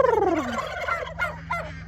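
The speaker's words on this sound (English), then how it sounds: "There you are, Turkey." A turkey on a farm homestead gobbles loudly up close, opening with a sharp, falling warble and then trailing into a few shorter broken calls over a faint steady hum.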